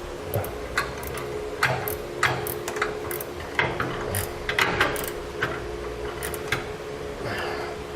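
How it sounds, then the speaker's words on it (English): A 1/2-inch wrench tightening a flange nut during a gooseneck hitch install on a 2012 Ram 3500, giving a series of sharp metallic ratcheting clicks at irregular intervals over a steady low hum. "we'll tighten that down with a 1/2-inch wrench"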